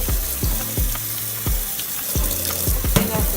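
Canned beans are rinsed under a running kitchen tap, a steady rushing hiss of water over them broken by repeated sharp clattering splashes as the beans are shaken, close and loud, with no talk.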